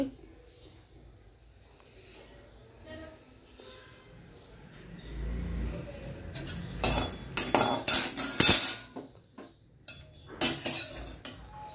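Spices are ground by hand on a traditional Bengali stone slab with a stone roller. Quiet rustling gives way to a stretch of loud, rapid, gritty scraping and knocking close by, then a few more strokes.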